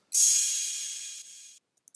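A crash cymbal sample from a trap drum kit, struck once loud and bright, then a long shimmering wash that fades and cuts off abruptly after about a second and a half, with a few tiny clicks after it.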